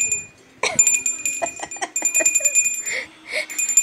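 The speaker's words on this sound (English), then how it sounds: "If I try to ring the bell..." A small hand bell rung close by in quick repeated jingles with a steady high ring, mixed with animal bleats or cries and a voice talking over part of it.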